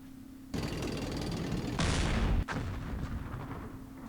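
Units open fire in the wargame Campaign Series Middle East: a burst of rattling gunfire begins abruptly, swells into a heavier volley, then a sharp crack follows and the shooting carries on over a steady low hum.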